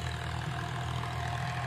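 A tractor cultivating a freshly sown maize field, its engine a steady low drone heard from a moderate distance with no talking.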